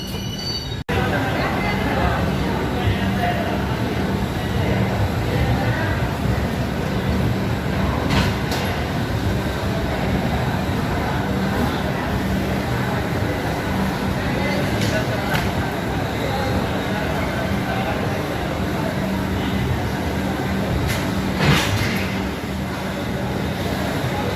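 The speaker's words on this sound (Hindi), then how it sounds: "अब तेलंगाना एक्सप्रेस आ चुकी है ग्वालियर में" The Telangana Express rolls into Gwalior station with a sustained rumble of wheels on track and carriages clattering, joined by occasional squeals, steady and close for over twenty seconds, with voices faintly underneath.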